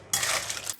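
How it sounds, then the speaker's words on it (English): A single metallic scrape and clink as clams with basil leaves are stirred in a pan for Thai-style stir-fried clams, brief and close. "Give it a stir."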